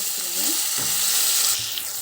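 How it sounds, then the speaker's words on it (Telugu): Onions and tomatoes frying in a pan, a steady close sizzle that holds throughout, with faint stirring sounds. "ఈ ఆనియన్స్ కొంచెం బ్రౌన్ కలర్లోకి రాగానే నేను టొమాటోస్ యాడ్ చేస్తున్నాను."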